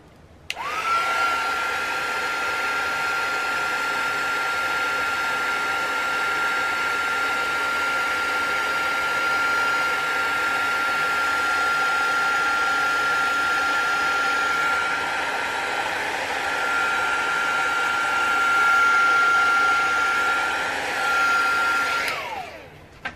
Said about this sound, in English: Let me get my heat tool.